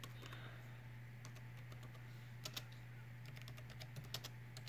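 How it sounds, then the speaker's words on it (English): Quiet keystrokes tap on a computer keyboard in scattered bursts over a steady low hum, close but faint, with no voices. "So we're gonna type this in like this."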